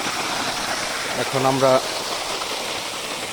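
Irrigation water flowing steadily into a rice field, a continuous rushing wash heard close throughout, with someone briefly speaking over it.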